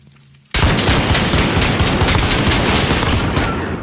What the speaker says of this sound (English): Oh, it's the Martian rifle.